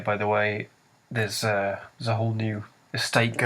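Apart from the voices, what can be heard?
No distinct noise like a dog, phone or traffic.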